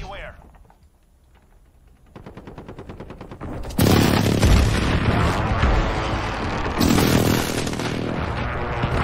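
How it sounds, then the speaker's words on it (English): A precision airstrike in a first-person shooter game: after quieter rapid gunfire, a loud explosive boom erupts and roars on, followed by a second heavy blast, with faint voices in the game mix. "Precision airstrike incoming."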